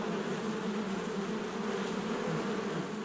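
Dense swarm of bees buzzing around their hive, a steady close drone with no pauses or talk.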